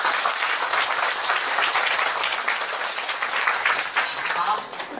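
Steady, dense applause from an audience gathered over a meal at a talk about Peking opera. The clapping is loud and continuous, with voices mixed in beneath it.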